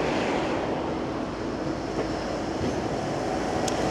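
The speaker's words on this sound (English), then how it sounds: "a tram and a truck all at the same time." A tram in Cleveleys rumbles past close by alongside a truck, a steady heavy rolling with faint rail clatter and a brief high squeal, continuous throughout.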